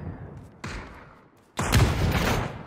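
A grenade going off in a tactical shooter, a loud broadband blast bursting in after quieter gunfire and thumps, its roar sustained for about a second with debris-like rumble trailing off.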